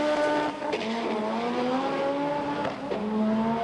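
A front-wheel-drive drag racing car making a run at Santa Pod Raceway: a loud, close engine screaming up through the revs, with quick gear changes breaking the rising whine.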